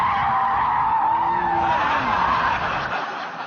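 A car spins and skids, its tires squealing loudly and continuously in a long sustained screech with engine noise beneath, fading slightly toward the end.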